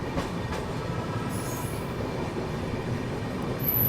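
A train rumbles steadily past at a station in Chhattisgarh, a continuous low roll of wheels on rails with faint clatter and a brief high squeal near the end, moderately distant and without speech.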